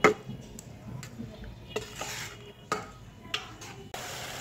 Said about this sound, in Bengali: এখন নারকেল, গুড় এবং দুধটাকে ভালোভাবে মিশিয়ে নেব।